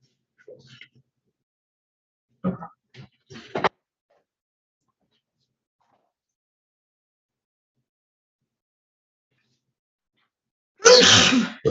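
A single sharp sneeze bursts out near the end of a quiet virtual court hearing on Zoom, after a few faint snatches of speech and a long stretch of near silence.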